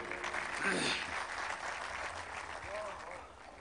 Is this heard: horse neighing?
no